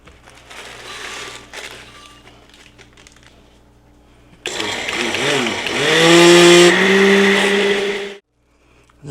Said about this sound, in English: I'm going to break these up and then feed them to my blender here to make my own graham cracker crumbs.